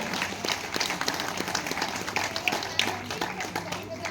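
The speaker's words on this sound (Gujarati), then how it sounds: "તો જોરદાર તાળીથી આ આખા સ્વીકારો" An audience at a women's association event claps together, a dense burst of hand clapping that rises and holds for a few seconds at moderate loudness.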